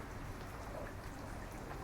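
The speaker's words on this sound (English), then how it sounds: "Spits of rain fleck the air as the skies ahead turn tumultuous." Light rain spits down beside a river on a grey September day, a soft, steady patter of drops under a low wash of outdoor ambience, faint and continuous with no voices.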